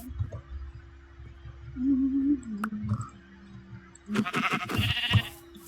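A sheep in the Minecraft video game bleats in a wavering cry, repeated a couple of times over a low ambient hum, with other game clicks and effects nearby.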